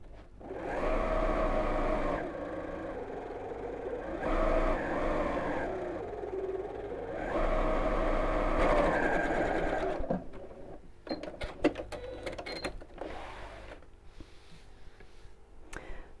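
A sewing machine runs top stitching along the bottom three sides of a child's backpack in steady whirring bursts, then stops; handling clicks and rustles follow alone.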